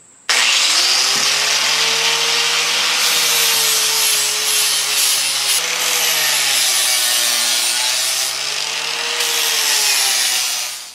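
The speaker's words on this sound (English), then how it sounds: "After finishing the corners with the angle grinder" An angle grinder working the corners off a seven-foot wooden 4x4 post, a steady loud whining drone with shifting pitch as the tool moves along the timber, running continuously and alone.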